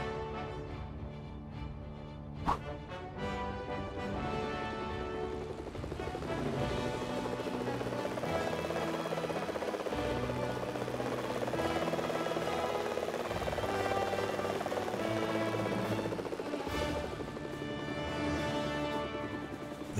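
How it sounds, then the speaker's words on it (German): Helicopter flying in the LEGO Worlds video game, a continuous whirring rotor and engine drone held steady throughout, with a sharp thump early on and no talk. "Da ist der Helikopter. Dann fahren wir mal los."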